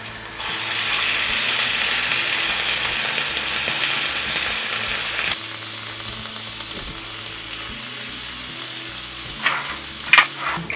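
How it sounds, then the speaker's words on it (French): Vegan onigiri fry in a hot pan, a loud, steady crackling sizzle that keeps going throughout and briefly sharpens with a few clicks near the end. "là ça commence à bouillir. Je vais y mettre mes onigiri."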